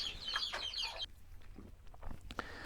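Chickens cluck and call close by on a farm while dogs finish their dinner, a few sharp bird calls standing out over faint background noise.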